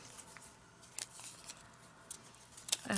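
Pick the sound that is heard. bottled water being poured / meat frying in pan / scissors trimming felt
scissors trimming felt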